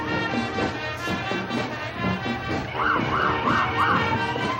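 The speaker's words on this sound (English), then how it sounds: "Your sirens in the background." A siren wails repeatedly in rising and falling cycles beneath a steady hum of background noise, fairly distant.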